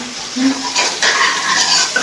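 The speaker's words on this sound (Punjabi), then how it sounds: "ਦੇਖੋ ਇਹ ਤੜਕਾ ਲੱਗਦਾ ਸਾਗ ਨੂੰ" Hot tadka tempering hits a pot of saag with a loud, steady sizzle, a bright hissing crackle that swells as the oil spreads, close up and without talk.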